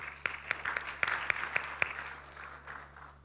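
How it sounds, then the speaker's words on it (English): Sparse, scattered claps from a small audience at an international technology and innovation conference, a few distinct sharp hand claps ringing out over a low hum, thinning toward the end. "let's once again give a big round of applause"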